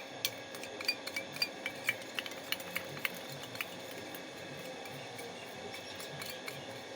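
A spoon mixes sugar and honey in a bowl, making faint, quick clinks and scrapes in an irregular rhythm that thin out after a few seconds over a quiet room hum.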